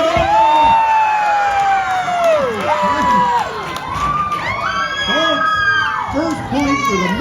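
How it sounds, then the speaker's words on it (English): Children and a crowd shouting and cheering loudly for a competitor at an outdoor lumberjack show, high excited voices rising and overlapping throughout. "Who's cheering for Chris?"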